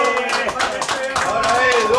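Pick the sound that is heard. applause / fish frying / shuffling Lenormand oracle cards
applause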